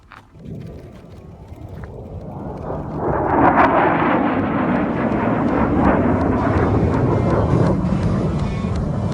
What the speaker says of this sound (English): It's a Air Force F-16, probably from the Air National Guard, and he was probably just coming through on a training flight.